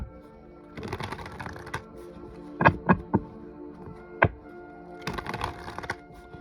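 A deck of Light Seers oracle cards being shuffled by hand, with bursts of riffling and a few sharp card snaps and taps, close and fairly quiet between pauses.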